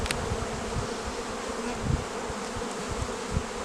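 Honey bees from an overwintered colony drone steadily throughout at close range during a spring hive reversal, a dense continuous buzz with faint knocks and shifts of boxes underneath.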